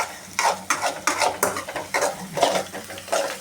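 Raw garlic stirred in a hot pan for garlic rice, with a spoon scraping and knocking the metal in a repeated rhythm of strokes over a light sizzle, close and clear.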